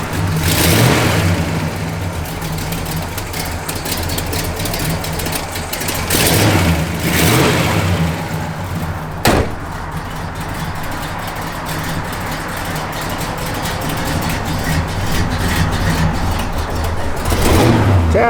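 A 1968 Pontiac GTO engine with a performance cam idling with a rough, loping rumble, steady and loud throughout, with a few revs swelling and falling.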